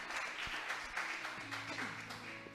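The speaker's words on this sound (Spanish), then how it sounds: "vamos a darle un aplauso al Señor por esta palabra" A church congregation claps for the Lord after a Bible reading, a dense, steady wash of many hands that is fairly quiet and distant, with a faint background hum and no talk.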